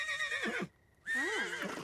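A horse in The Sims video game gives two loud, wavering whinnies separated by a brief pause, close and clear over soft background game music.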